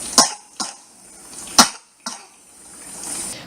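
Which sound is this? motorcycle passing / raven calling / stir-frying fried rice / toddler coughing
toddler coughing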